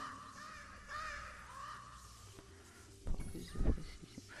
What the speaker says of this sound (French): la salle des machines est envahie d'oiseaux